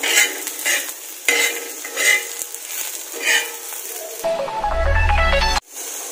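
Roasted green chillies with salt stirred in a pan for a village-style thecha, giving scraping, clinking strokes with light sizzle, then a loud steady hiss near the end that cuts off abruptly.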